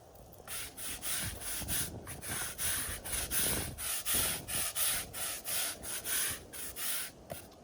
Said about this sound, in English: scrub it in with a stiff brush